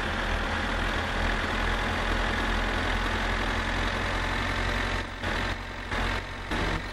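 A car engine in the driving simulator My Summer Car runs under throttle with a steady mid-pitched droning rumble, then stutters with a few brief dips near the end as the revs change.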